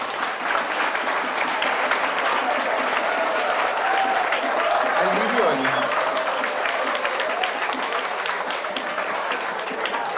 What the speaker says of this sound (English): Abhi, you can clap if you want.